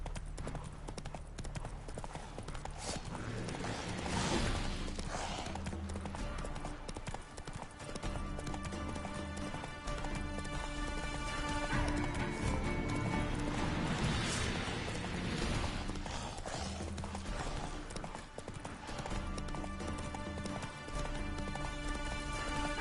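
Hooves clip-clop in a fast gallop as a horse called Roach runs in The Witcher 3 video game, steady rhythmic hoofbeats with occasional neighs under layered game music and ambience, loud and close throughout.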